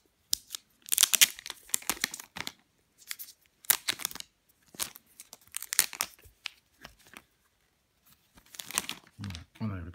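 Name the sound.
removing plastic wrapping from an Apple TV 4th generation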